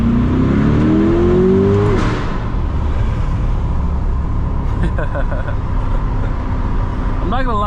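A C8 Corvette's engine revving and accelerating inside a tunnel, a loud rising roar early that settles into a steady drone with echoing reverberation, while people talk over it.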